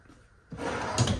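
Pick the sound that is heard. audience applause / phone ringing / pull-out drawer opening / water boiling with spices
pull-out drawer opening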